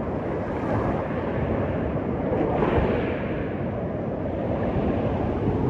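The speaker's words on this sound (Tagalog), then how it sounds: "Ganyan kalakas ang alon dito sa Dingalan." Strong Pacific waves breaking on a rocky shore at Dingalan, Aurora, a continuous loud roar of surf mixed with buffeting wind noise on the microphone, with no voices.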